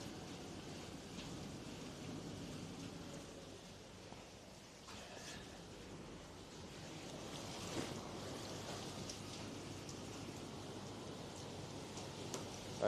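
Hail and rain pounding down during a severe storm outbreak on the Great Plains, a dense, steady hissing roar that fills the whole stretch with only slight swells in intensity.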